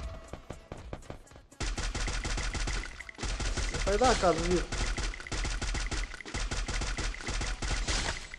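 Rapid bursts of gunfire in a shooting video game crackle in dense, repeated volleys, close and loud, while someone speaks Portuguese briefly over the action.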